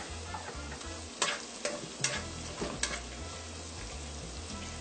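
Onion and chopped tomato frying in a pan for dal, a steady close sizzle broken by a few sharp stirring scrapes and taps, with no talking.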